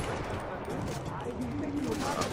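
Rapid gunfire in Far Cry 4, a dense continuous burst of shots that stays loud throughout, heard alone without talk.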